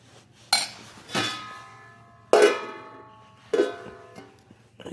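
Rice being served from a pot in a small room, with four separate loud metallic clangs of a utensil against the pot that ring and fade between strikes, close by and with no talk.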